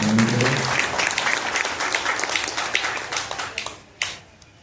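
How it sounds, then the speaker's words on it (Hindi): Loud, dense applause greets Mayor Malti Rai at a havan ceremony, a sustained crowd clapping that fills the whole stretch and tapers slightly near the end, with a brief voice at the very start. "जोरदार तालियों के साथ उनका अभिनंदन करें।"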